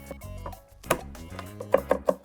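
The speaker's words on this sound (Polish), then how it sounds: "Miażdżę i siekam." Knife crushing and chopping garlic on a cutting board: a few scattered knocks, then a quick run of sharp taps close by, with no talking.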